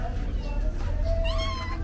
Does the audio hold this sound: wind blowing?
no